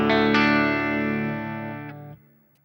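A distorted metal guitar chord from an HX Stomp XL preset rings out loud and sustained, slowly decaying, then cuts off leaving a short, quiet reverb trail set at a low mix.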